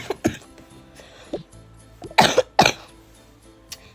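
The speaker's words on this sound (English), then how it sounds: "Sorry guys, I have a cough." Several sharp, harsh coughs from a person, close and loud, coming in short bursts with quiet gaps between them and no speech.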